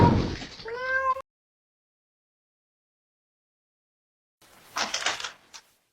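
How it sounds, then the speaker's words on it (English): A cat gives a short, plaintive meow near a doorway, a close tonal cry followed by a long silence and then a burst of brief rustling noise. "Are you lost, kitty?"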